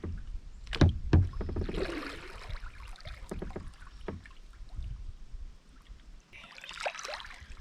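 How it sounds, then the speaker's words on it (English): Kayak paddle strokes splash and drip in the water at Deer Creek, a few sharp dips followed by gentle swishing, with light wind in the background. "paddle around in your kayak or canoe"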